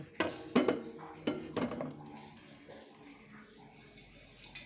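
A stainless steel plate handled in a kitchen, a few sharp metallic clanks and clinks close by in the first two seconds, then quiet room tone.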